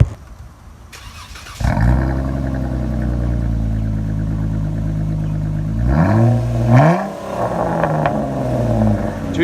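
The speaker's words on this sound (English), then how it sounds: "I want to make my exhaust roar." A 2016 Jeep Wrangler's 3.6-liter engine with a Flowmaster Outlaw muffler cranks and starts with a deep rumbling exhaust, idles steadily, then revs up sharply and settles back, close and loud.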